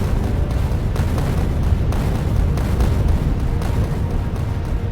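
A Factorio explosion makes a dense, sustained rumbling roar with rolling booms, loud and continuous for several seconds.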